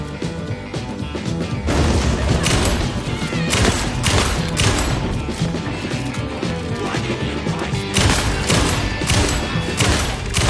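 Gunfire in the video game Alan Wake 2, with dense, continuous volleys of loud shots and heavy impacts throughout, punchy and close with no pause.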